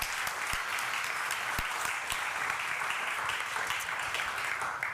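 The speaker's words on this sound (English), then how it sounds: "Yeah, we're clapping?" A conference audience claps after a talk, a steady, fairly close round of applause with a few hard, distinct claps near the front and no talking over it.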